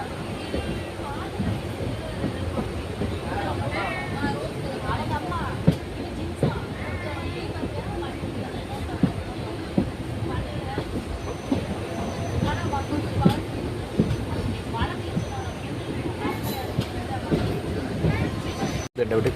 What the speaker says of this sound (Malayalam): ആ മലയൊക്കെ മറികടന്ന് നമ്മുടെ ട്രെയിൻ ഇതായി ഇവിടെ കൂടെ ഇടമണ്ണി കൂടി സഞ്ചരിച്ചുകൊണ്ടിരിക്കുകയാണ്